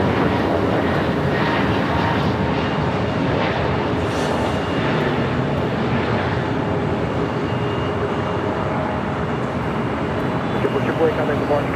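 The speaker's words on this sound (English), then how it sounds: "American Airlines Flight 738 heading to Philadelphia. A321 Neo now rolling down 25" An American Airlines Airbus A321neo rolls down runway 25 right at Los Angeles airport for takeoff, a loud, steady engine roar that holds throughout.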